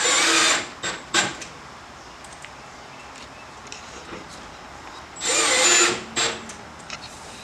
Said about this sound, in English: The holes are already pre-drilled, so just put all your screws in.